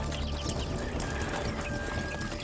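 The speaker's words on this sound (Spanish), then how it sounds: "De ella emerge un jinete a caballo." Horse hooves clip-clop steadily over a continuous rumbling, noisy background, with no voices.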